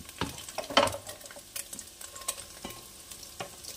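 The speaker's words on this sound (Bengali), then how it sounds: "ডিমটা ভাজা হয়ে গেছে" Egg scrambled with a pinch of salt, stirred and scraped in a hot frying pan while it fries: a run of short, uneven spatula scrapes and clicks over a low, steady sizzle, close up, with no talking.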